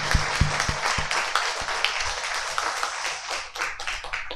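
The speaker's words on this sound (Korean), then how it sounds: "한번 이 시간에 우리 지휘자 쌤 격려의 박수도 보내고 오늘 찬양도 감사하고 박수 한번" Church congregation applauding, a few sharp close claps at the start followed by a dense, fairly quiet spread of clapping.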